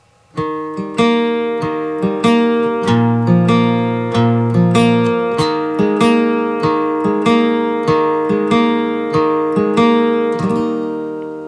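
Acoustic guitar fingerpicked in a steady repeating three-string pattern, bass note alternating with higher strings, clear and close, ringing out at the end.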